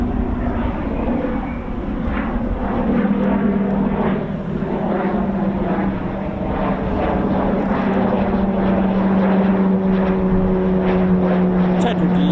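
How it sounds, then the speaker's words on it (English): A Grob Prefect training aircraft flies near RAF Waddington, its propeller engine droning steadily with a slowly shifting pitch, loud and continuous under people talking. "speaking of training aircraft, this is a Grob Prefect."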